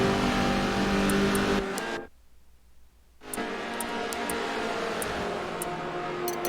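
Race cars in the Forza racing game roar past around the track, engines revving loudly and then briefly dropping to near silence before another pack thunders through with steady high engine whine.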